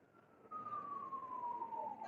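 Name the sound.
siren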